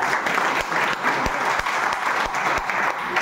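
An audience at a Vestige talk by S Eswarao claps loudly for three seconds, a dense, steady wash of applause marked by a few sharper, distinct hand claps.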